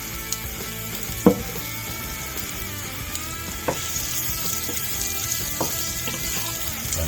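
Onions and jalapenos frying in a little oil, giving a steady, close sizzle throughout with a few faint clinks and stirring scrapes.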